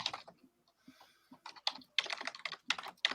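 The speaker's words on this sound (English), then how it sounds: "Who's angry typing?" Fast, irregular keystrokes clatter on a computer keyboard, growing harder and louder toward the end in forceful bursts, close and alone with no talk.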